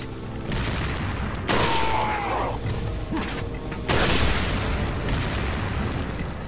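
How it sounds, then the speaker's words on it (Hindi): Bombs going off in the video game Resident Evil 4: two heavy blasts land a few seconds apart, each a loud broadband burst with a rumbling tail, amid clanking and creaking mechanical game noise. "बम कौन फेंक रहा?"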